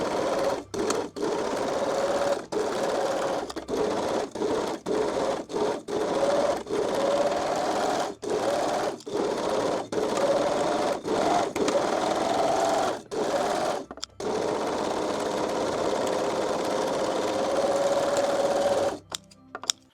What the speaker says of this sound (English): let's move to the sewing machine and sew the dart and the straps first.